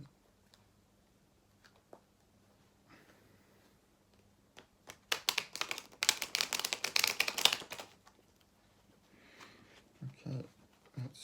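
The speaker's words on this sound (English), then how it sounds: "when you are shuffling tarot cards" Tarot cards riffled and shuffled in a burst of quick, crisp flutters that build and then stop, with quieter handling noises before and after.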